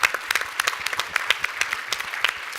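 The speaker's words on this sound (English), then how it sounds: "Yes, I'd like that applause." An audience applauds at a humanitarian prize panel discussion, with steady, fairly close clapping from a modest crowd and no talking.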